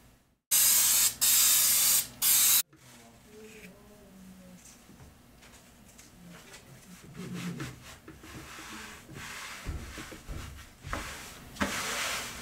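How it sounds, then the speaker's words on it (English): Two loud, close bursts of spray adhesive hissing onto a T-shirt at the start, followed by quieter rustling and handling noises. "I'm first going to stick it down with the spray adhesive because I don't want it to move"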